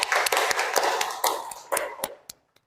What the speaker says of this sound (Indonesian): tepuk tangan dulu untuk Mbak Afri.